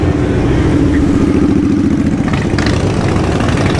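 Motorcycle engines idle at the Sturgis Motorcycle Rally in South Dakota, a loud, dense, close rumble of overlapping pulsing exhausts that holds steady throughout.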